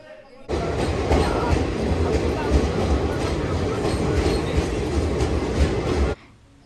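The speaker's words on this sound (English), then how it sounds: "So the train was passing through miles and miles of farmland." A passenger train rolls through farmland in India, a steady close rumble and rattle of wheels on track that runs unbroken for several seconds, then cuts off abruptly.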